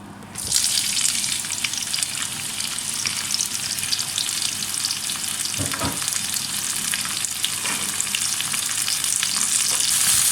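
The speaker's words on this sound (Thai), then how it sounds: "เราจะผัดพริก หอมและกระเทียมให้หอมนะคะ" Chili, onion and garlic stir-fried in hot oil in a pan give a steady, close sizzle with bright frying crackle throughout, a couple of brief scraping stir sounds near the middle, and no talking.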